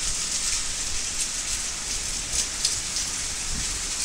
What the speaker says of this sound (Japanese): 梅雨ってさ、こんなに強かったっけね。